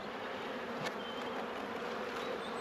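Honey bees buzz inside a small nuc hive, making a faint, steady, close hum that holds level without breaks and has no talking over it.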